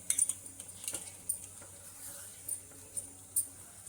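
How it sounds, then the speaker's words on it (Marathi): Cooked mutton being stirred into gravy in a pan with a metal spoon, producing light intermittent clinks and scrapes against the pan, close and fairly soft, with no voice. "मटण चांगलं मिक्स करून घेते ग्रेव्हीमध्ये"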